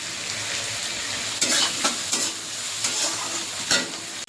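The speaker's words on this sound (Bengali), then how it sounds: "এখানে যে আমার পেঁয়াজটাও ভাজা হয়ে গেছে" Onions frying in oil in a pan for a chicken giblet dish, a steady close sizzle with several louder bursts of stirring and scraping, no talk.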